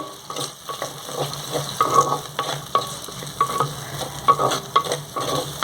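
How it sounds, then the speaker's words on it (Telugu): Onions with coarse salt softening in a pan for a raw mango curry, giving a steady close sizzle broken by repeated scrapes and clinks of stirring, with no talking. "ఇవి కొంచెం మగ్గితే చాలు ఉల్లిపాయలు కాసేపు మగ్గనిద్దామండి ఉల్లిపాయలు మగ్గుతున్నాయండి"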